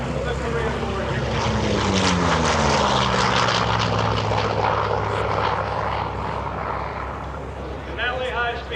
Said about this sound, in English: He'll lower the wing closer to the crowd as he banks it around, which is affectionately called a banana pass.